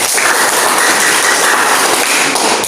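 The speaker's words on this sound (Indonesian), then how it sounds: "kita berikan aplaus buat kelompok 1" A classroom audience claps for a student group, a dense and steady burst of applause that stays loud and even from start to finish.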